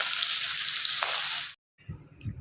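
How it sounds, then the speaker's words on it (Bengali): Fish sizzles steadily in a little oil in a wok, close and fairly loud. The sizzle cuts out briefly, then a few softer crackles return. "আমি কড়াইতে অল্প তেল দিয়েছিলাম আর এখানে এসে ভেজে রাখছি হালকা করেই ভেজে নিচ্ছি"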